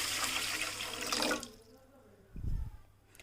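Water is poured into a pot of sugar on a gas stove to make syrup for semolina gulab jamun, a loud splashing pour that stops midway, then a brief second gush, close and with no talking.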